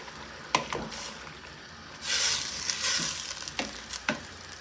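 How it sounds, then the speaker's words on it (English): A pot of vegetable minestra bubbles and hisses softly on the stove, with a louder surge of sizzling midway and a few sharp knocks of a spoon or lid nearby. "is going to simmer till most things break down"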